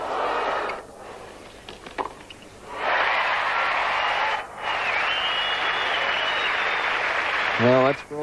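Tennis crowd at a 1989 Sydney quarterfinal between Hana Mandlikova and Mary-Jo Fernandez bursts into applause for a winning point, loud sustained clapping in two waves, with a commentator's voice in the gaps between them.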